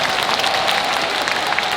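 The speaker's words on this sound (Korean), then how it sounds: "박수 부탁드릴게요." Audience applause at a film premiere talk event for a Netflix movie, a steady dense patter of clapping filling the room without pause, moderately loud and close.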